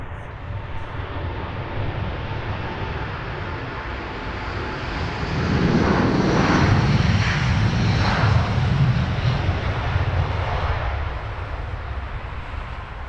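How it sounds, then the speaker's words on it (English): A Delta Airlines Airbus A330 jet departs Heathrow Airport for Atlanta, producing a continuous broadband engine roar that swells in the middle and then eases, heard at a distance with no talking. "Delta Airlines there, A330 off to Atlanta."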